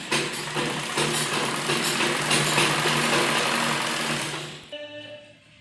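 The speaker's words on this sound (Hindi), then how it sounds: "इधर भी इस तरह थोड़ा थोड़ा फोल्ड करते हुए, और ये कपड़ा थोड़ा थोड़ा अंदर की तरफ देते हुए सिलाई लगानी है।" A sewing machine stitches a folded hem on palazzo trousers, running as a loud, fast, steady mechanical whir for several seconds before stopping abruptly, followed by a few faint clicks.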